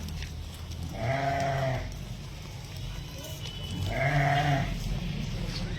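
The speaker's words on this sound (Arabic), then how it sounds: "دي نعجة من بننا" Sheep bleating at a livestock sale, two drawn-out bleats from a ewe among a flock of 26 ewes and a ram, fairly close, with low background murmur and faint talk between them.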